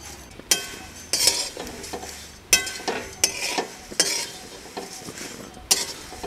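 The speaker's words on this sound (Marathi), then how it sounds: "आता पुढचे पोहे मी यामध्ये काढून घेतो आणि ते पण आपण असेच भाजून घेऊया।" Flattened rice flakes (poha) being dry-roasted in a pan, giving repeated scraping stir strokes with light sizzling and occasional utensil clinks, close and moderately loud, with no talking.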